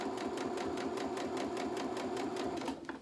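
A sewing machine runs steadily, double-stitching a seam on small boxer shorts, its rapid regular needle rhythm loud and close throughout, easing off just before the end.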